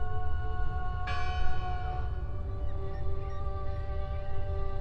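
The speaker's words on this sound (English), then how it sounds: "I heard the bell!" A church-style bell tolls once in the horror video game Draugen, its bright metallic strike ringing out and sustaining with long, slowly fading tones over a low, rumbling ambient backdrop.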